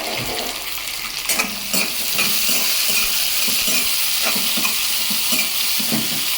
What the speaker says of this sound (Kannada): ಈಗ ನಾನು ಟೊಮೊಟೊ ಹಾಕ್ಕೊಳ್ತಾ ಇದ್ದೇನೆ.